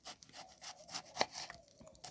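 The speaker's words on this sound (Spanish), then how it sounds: "También la cebolla. Vamos a rebanar." Kitchen knife slicing an onion on a cutting board for meat empanadas, giving a series of soft, close scraping cuts at an uneven rhythm with one sharper chop in the middle.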